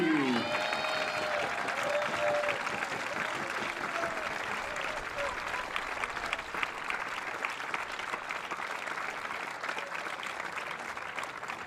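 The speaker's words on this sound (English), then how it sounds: "On applaudit les joueurs de l'Italie, Francesco Barbagallo, Pietro Iubara, Alejan" Crowd applauding the Italian under-21 canoe polo medalists at a world championship medal ceremony in Saint-Omer, France: sustained, dense clapping with faint cheers, beginning under a brief announcer's voice and continuing steadily alone.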